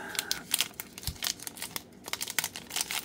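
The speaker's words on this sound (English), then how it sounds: "sometimes opening these packs are hard" A 2024 Fleer Ultra Wolverine trading card pack's foil wrapper is torn open up close: quiet crinkling and crackling in short bursts, with a few sharp tearing rips.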